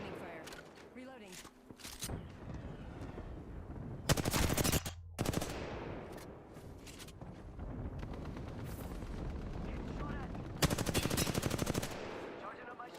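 Bursts of automatic and single-shot gunfire in the battle royale shooter Apex Legends, several loud volleys separated by gaps, with in-game voice callouts and background game sounds between them.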